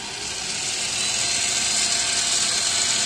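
A metal lathe runs steadily after being switched on in a workshop, giving a loud, continuous whirring hum with bright high-end noise that holds level throughout, no voices over it.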